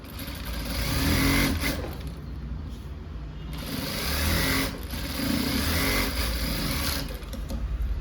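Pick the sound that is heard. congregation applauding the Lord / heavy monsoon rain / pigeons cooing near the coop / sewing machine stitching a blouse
sewing machine stitching a blouse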